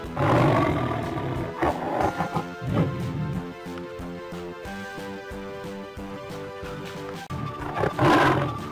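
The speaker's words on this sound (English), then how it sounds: "Lion." A lion's roar from a children's animal toy set: loud, rough roaring bursts open and close the clip, with a quieter tonal, music-like stretch in between.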